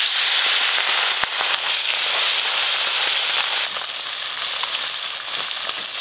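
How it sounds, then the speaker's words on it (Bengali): Small river fish fry in very hot oil, a steady loud close-up sizzle with sharp crackles and pops scattered throughout and no voices. "তেল খুব ভালো করে গরম হয়ে গেছে, ছোট মাছগুলো ভেজে নেব।"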